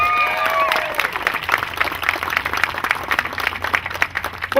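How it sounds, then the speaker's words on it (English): A crowd at a city opening ceremony gives a round of applause, with hearty clapping and a few cheers that rise and then turn more scattered and uneven, with some voices mixed in. "So give them a round of applause."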